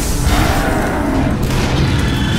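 Heavy gunfire in the video game Shadow Warrior makes a loud, continuous booming roar that fills the whole stretch with dense, rumbling blasts.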